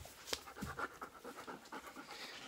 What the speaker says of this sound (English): today I'm going to take you for a short walk with my dog, Brandy.